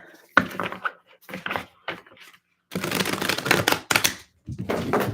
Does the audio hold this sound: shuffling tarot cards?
yes